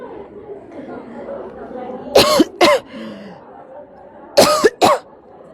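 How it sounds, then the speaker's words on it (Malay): An audience at a religious talk coughs on request, heard as two pairs of loud crowd coughs that burst out together, with a faint murmur of chatter between them. "Batuklah pula."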